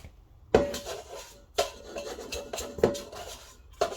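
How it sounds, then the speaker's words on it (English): A bowl scraper drags bread dough for rolls out of a mixing bowl in four distinct scraping strokes, each starting with a sharp knock against the bowl, close and fairly quiet. "We're going to use our bowl scraper. Make sure you get all of the dough out."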